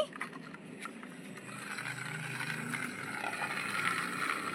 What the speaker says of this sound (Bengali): আওয়াজ হচ্ছে চাকাগুলোতে আবার